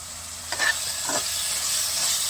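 Broad beans fry in oil with spices in a village-style pan, giving a steady close sizzle broken by a couple of brief stirring scrapes, with no talking.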